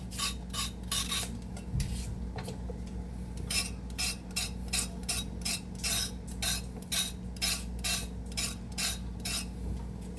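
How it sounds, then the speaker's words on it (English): Carrots being peeled with a vegetable peeler in a home kitchen while making chicken noodle soup, a quick run of rhythmic scraping strokes, close and crisp, with brief pauses between bursts. "Peeling carrots, y'all."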